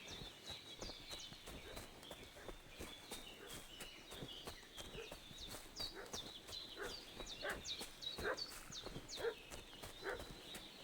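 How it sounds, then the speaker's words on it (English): A dog barks repeatedly at middle distance in the medieval game Kingdom Come Deliverance 2, sharp yaps scattered over horse hooves clip-clopping and footsteps, moderately quiet against ambient background. "What's that dog making such a fuss about?"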